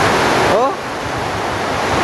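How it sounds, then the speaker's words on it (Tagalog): Strong wind drives through a heavy rainstorm in a loud, continuous broadband roar that fills the air. A brief vocal sound breaks through near the start. "sa lakas ng hangin."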